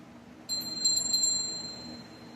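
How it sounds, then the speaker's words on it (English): A small bell struck once at the close of a tarot reading rings out clearly with a bright, sustained high tone that slowly fades over a soft background hum. "So I'm going to go ahead and ring this bell."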